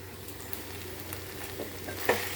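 Raw banana pieces fry in a pan with a low, continuous sizzle and a few soft stirring scrapes, one louder clatter near the end, and no talk.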